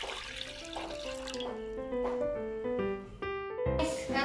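Water poured into a pot while making sweetened jackfruit, a rising gurgling pour with pitch climbing as the vessel fills, close and continuous, ending in a louder splash.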